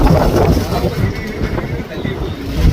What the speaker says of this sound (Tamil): இப்போ கடல்ல காற்றுமே அதிகமா இருக்கு, கடலோட அலையுமே அதிகமா இருக்குதுங்க